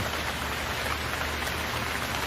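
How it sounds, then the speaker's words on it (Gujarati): Heavy rain falls in a jungle, a dense, even downpour hiss that holds steady throughout with no voices over it. "આ શું વરસાદ તો ખૂબ પડી રહ્યો છે"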